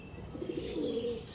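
A pair of Giribaz pigeons gives a few soft, quiet coos, short rolling notes close by that swell briefly and fade, heard alone without talking.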